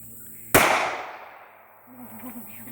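A single sharp gunshot on a home gun range cracks out close and loud, then rings and decays over about a second. A voice follows faintly afterward.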